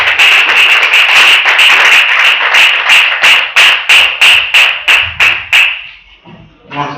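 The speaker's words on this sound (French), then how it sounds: "Des acclamations pour Jésus." Church congregation clapping in unison at a service, loud sharp rhythmic claps in a fast steady beat that slows and fades out near the end, with no cheering evident.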